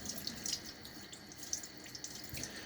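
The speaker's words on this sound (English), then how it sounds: "Rinsing out the teaspoon measure here, 1/4 teaspoon." Tap water runs softly over a small 1/4 teaspoon measure being rinsed, a faint, steady trickle with light splashes close by.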